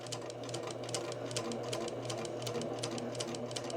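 A domestic sewing machine runs steadily, stitching through fabric off the edge of the material in a fast, even mechanical whir with regular needle ticks, close and continuous with no talking.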